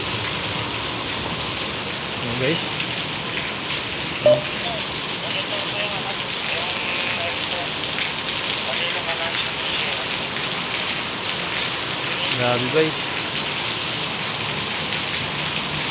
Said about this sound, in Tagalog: Malakas lang po yung buhos ng ulan, kaso hindi naman siya, wala naman siyang kasamang hangin.